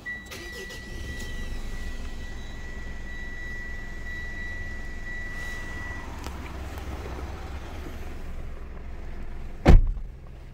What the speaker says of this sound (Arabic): نسمع الآن صوت تشغيل الـ L200، تشغيل السيارة عن طريق المفتاح